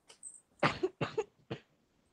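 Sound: cough

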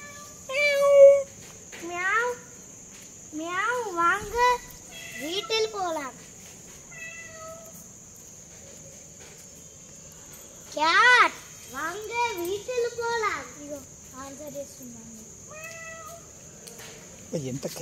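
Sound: cat meowing

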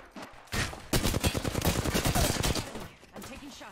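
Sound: gunfire in a shooter video game

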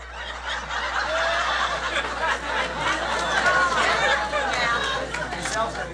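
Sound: rally crowd chattering and laughing

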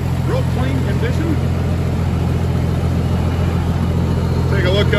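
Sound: 1976 J I Case 1370 tractor engine running

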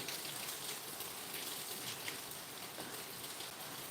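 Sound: rain falling

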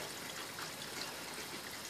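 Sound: water running through a plastic sink P-trap

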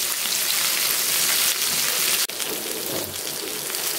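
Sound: red snapper fish frying in a pan

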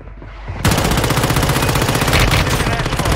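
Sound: gunfire in Warzone Mobile video game

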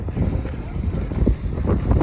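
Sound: wind and rain at an outdoor car market

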